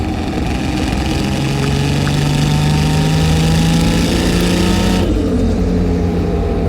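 An HKS-built 2.8L stroker RB26 engine with an HKS turbo drones loud and close, its pitch climbing steadily as it pulls, then cutting off abruptly into a lower settling tone.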